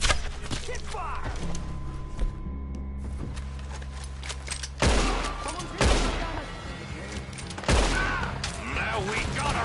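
Loud gunfire bursts ring out in a video game shootout, with heavy volleys striking repeatedly over a dense, constant background of battle noise.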